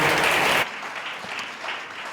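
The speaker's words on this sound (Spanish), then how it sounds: "Un aplauso para el equipo también." A church congregation applauds the team, a dense burst of clapping that stops abruptly after a moment, followed by quieter room sound and scattered murmurs.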